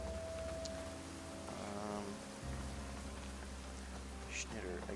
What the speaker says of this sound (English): Sun shower, that's nice.